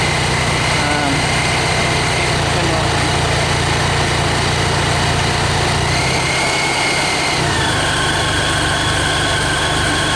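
A supercharged Subaru flat-four engine idles smoothly and steadily up close, a constant mechanical hum with a slight shift in tone partway through, while someone talks over it.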